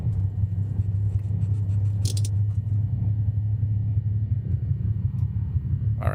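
Twin engines of a Piper Seneca II held at 1,000 RPM in the X-Plane 12 flight simulator make a steady, low droning rumble throughout, with a faint click in the middle.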